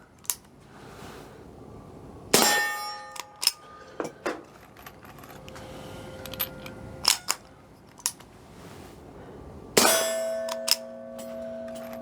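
5.7 pistol rounds striking steel targets outdoors, heard as several sharp metallic clangs with ringing tails, spaced irregularly among fainter distant pings.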